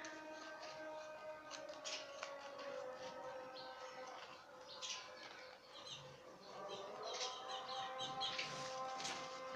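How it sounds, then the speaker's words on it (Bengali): Scissors snipping around a paper circle to line a baking tray, with quiet intermittent cutting sounds and faint metallic squeaks in a still indoor room. "এখন আমি যে কাজটা করব তা হচ্ছে সিজার দিয়ে এই আমাদের যে সার্কেলটা হয়েছে সার্কেলটার সাইডে 1/2 ইঞ্চির মতো কাগজ রেখে আমি এটাকে কেটে নেব"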